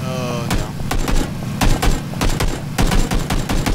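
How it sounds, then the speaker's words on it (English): Gunfire in the video game PUBG comes in rapid bursts of sharp, close shots with a brief pause between volleys, while someone talks quietly underneath. "I don't know if I'm firing at anything yet."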